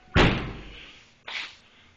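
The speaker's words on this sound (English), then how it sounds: "Shut the door." A door slams shut with a loud, close thud during a garage rear gear swap, followed about a second later by a second, softer slam.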